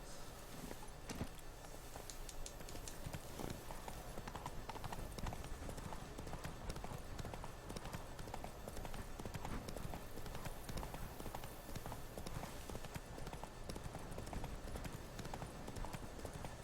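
Horse hooves clip-clop steadily in The Witcher 3 video game, a continuous walking rhythm under game ambience, with a voice faintly in the background.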